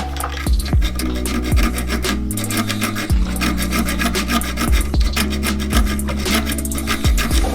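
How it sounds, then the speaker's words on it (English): A hacksaw blade cuts off the choke guard on a Kawasaki KLX110L motorcycle carburetor, rasping steadily back and forth in close, loud strokes with brief pauses between passes. "I'm going to use the hacksaw blade to cut off the choke guard."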